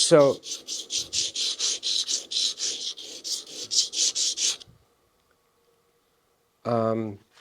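A woodcarving tool is stroked in a quick, even series of about fifteen rasping passes to hone off the burr. Silence follows, then one short low sound near the end.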